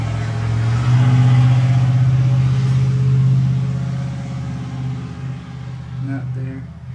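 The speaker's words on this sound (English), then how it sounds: "That truck there needs a freaking muffler" Truck engine with no muffler rumbling nearby in a garage, a loud, deep drone that swells as if revving, then eases and wavers, with people talking over it.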